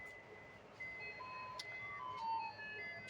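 A street vendor's cart selling candy and lollipops plays a tinny electronic jingle through its loudspeaker, a faint melodic beeping tune heard at a distance over low background noise.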